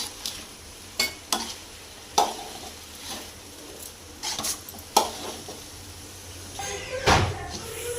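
Rice being stirred into frying tomato rice in a pan, with scattered scrapes and clinks of a spoon against the pot over a low sizzle, several sharper knocks spaced through the stretch and no talking.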